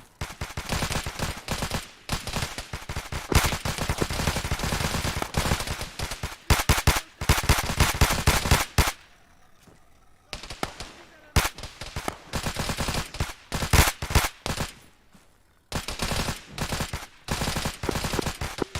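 Arma 3 military gunfire rattles in long, rapid automatic bursts, dense and loud, broken by a few short pauses before the shooting resumes in sustained volleys.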